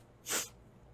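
A single sharp sneeze, close and fairly loud, over a quiet background.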